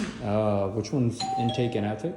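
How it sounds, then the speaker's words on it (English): An apartment doorbell chimes once as people talk over it, the tone ringing out briefly in the middle of conversation. "that is the doorbell"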